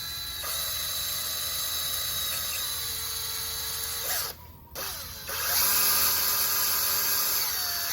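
An 18-volt DeWalt cordless drill whines at high pitch up close. It runs steadily, stops briefly near the middle, then spins up again at a slightly different pitch.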